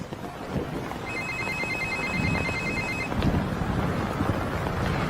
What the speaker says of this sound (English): It's gonna ring in a few seconds. You might want to take the call outside.